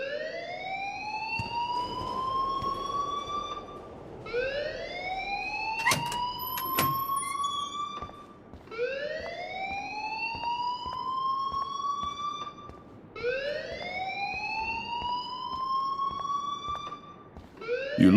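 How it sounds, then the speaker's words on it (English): A fire alarm in the video game Life is Strange Remastered wails in repeated rising sweeps, loud and continuous, each cycle lasting about four seconds, with no talking over it. "please turn off that alarm since that's your job"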